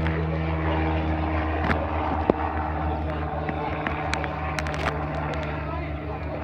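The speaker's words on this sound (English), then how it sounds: "Tiger moth on the move. It uses the grass runway." A de Havilland Tiger Moth biplane taking off from a grass runway, its propeller engine droning steadily at moderate distance, with faint wind and scattered background noises.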